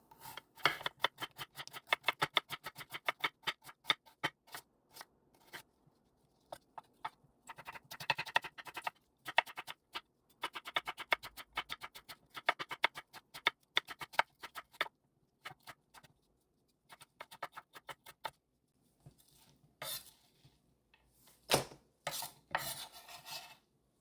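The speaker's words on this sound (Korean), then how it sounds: "무 300g은 채를 썰어 줄게요" 300 g of radish cut into julienne strips with a knife, making fast, crisp chopping taps on a board in quick bursts separated by short pauses, close and clear.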